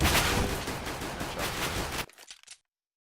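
Rapid gunshots in a Counter-Strike match, a dense close volley of cracks that stops abruptly, leaving a few scattered faint clicks and then silence.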